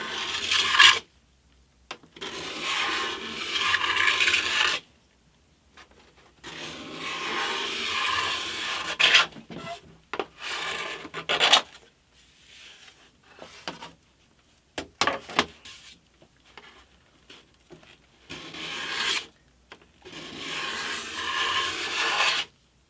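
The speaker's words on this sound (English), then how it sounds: "There is a little bit more scraping to be done." A scraper works over freshly jointed and glued acoustic guitar back plates of wood, close rasping strokes in repeated bursts separated by short pauses, steady and fairly loud, with no talking.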